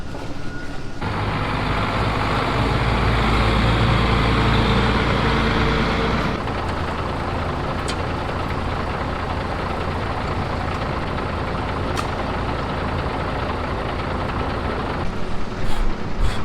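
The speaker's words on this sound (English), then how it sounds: "Truck's all set and ready to head home." A truck's engine runs steadily as it is loaded with sawdust on a farm. The low, continuous rumble is loud at first, then settles to a slightly quieter idle, with a few faint knocks and no speech.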